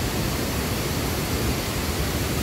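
A steady, dense roar of rushing water from the Pa Ba waterfall, its flow turbid and reddish, holds evenly throughout at close range with no voices.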